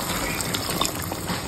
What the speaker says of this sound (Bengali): এখন আমি 1 কাপের মতো নারকেলের দুধ দিয়ে দেব।